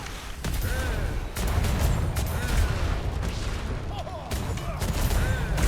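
Ship cannons firing from gun ports in a naval video game, dense rumbling booms in a continuous heavy barrage, loud and close, with faint voices underneath.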